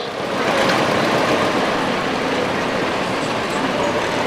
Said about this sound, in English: This yellow tractor here is a 1950 Minneapolis Moline Model U, owned and driven by Roger Pruis.